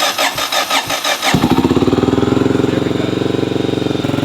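A Honda GB500 motorcycle engine cranks with a few uneven turns, then fires and settles into a steady, throbbing idle, close and loud. A brief voice is heard just before it catches.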